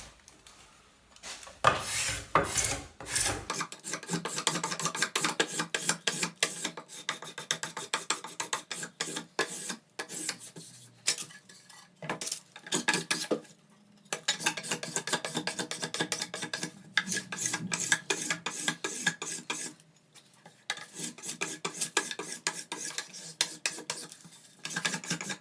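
Sharpened scraper dragged along the edge of a wooden panel for a four-panel door, peeling off glue in repeated close, raspy strokes with brief pauses between passes.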